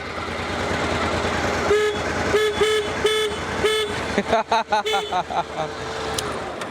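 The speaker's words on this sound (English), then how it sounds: "horn check for the Africa Twin" A thin, nasal horn of an old Honda XRV750 Africa Twin motorcycle beeps in several short bursts, then a rapid flurry of quick toots, heard close over a running engine idle.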